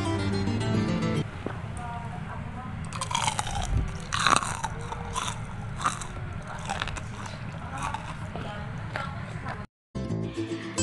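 Crunchy homemade chicken popcorn is bitten and chewed close to the mic, a run of sharp crackling crunches repeating steadily for several seconds, loud and dry with no talking over it.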